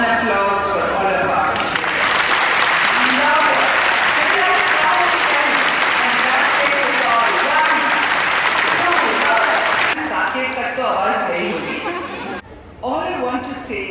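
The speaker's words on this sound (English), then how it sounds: "And one applause for all of us." Applause from the audience at a primary school's annual day in Delhi, loud, sustained clapping from a large crowd with voices and chatter mixed in, then tapering off toward the end as talk takes over.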